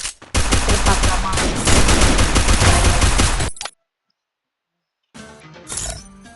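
Rapid bursts of Free Fire gunfire rattle loud and close for a few seconds, cut off abruptly, then after a silent gap a second short volley of game shots crackles in.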